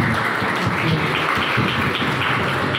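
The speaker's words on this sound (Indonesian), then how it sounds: "Tepuk tangan untuk semuanya" Audience applause at a school student council candidate debate, a dense steady wash of clapping from many hands lasting the whole stretch, fairly loud and close, with faint voices mixed in.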